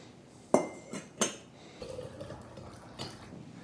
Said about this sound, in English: I think it's better to ladle this stock into the jar rather than attempt to pour it